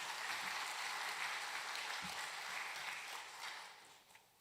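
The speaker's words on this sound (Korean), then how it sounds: "우리 코람데오 찬양대를 위해서 격려의 박수 부탁드리겠습니다" A church congregation gives the choir a round of encouraging applause, soft and even clapping that tapers off toward the end.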